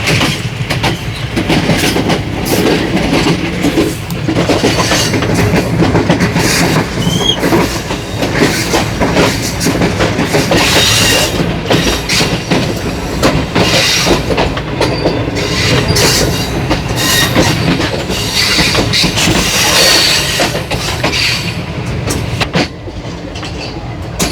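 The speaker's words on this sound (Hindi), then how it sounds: "गोल्डा शरीफ के लिए अप्रोच बना रही है डाउन हज़ारा एक्सप्रेस और 13 अप अवाम एक्सप्रेस" The Down Hazara Express approaches Golra Sharif railway station in Pakistan with a loud, continuous roar of rolling wagons, rhythmic clickety-clack over the rail joints and brief wheel squeals throughout.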